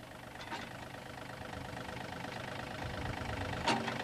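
A tractor engine idles steadily at a low, continuous rumble while an implement is hitched, faint and even throughout with a brief knock near the end and no talking.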